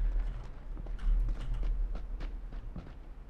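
Footsteps in PlayerUnknown's Battlegrounds tap in a quick irregular rhythm, soft and muffled over low background rumble, a handful of light thuds spread across a few seconds.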